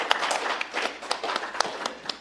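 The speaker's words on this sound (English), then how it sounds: "I'm going to ask that we stand and give Dr. J a round of applause for a beautiful session." Faint, quick clapping from a forum audience applauding a speaker after a session, distant and light with uneven individual claps.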